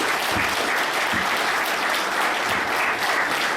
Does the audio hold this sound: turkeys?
no